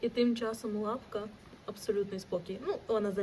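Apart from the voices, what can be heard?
No everyday noise stands out behind the speech.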